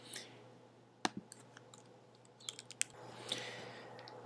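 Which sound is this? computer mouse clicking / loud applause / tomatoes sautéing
computer mouse clicking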